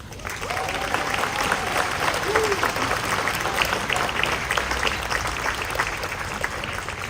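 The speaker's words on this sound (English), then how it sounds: "let's give a really, really loud round of applause for our media partners and journalists" A crowd at an outdoor earthquake and fire anniversary ceremony in San Francisco claps loudly and continuously, a thick wash of many hands that stays strong throughout, with a brief voice heard early on.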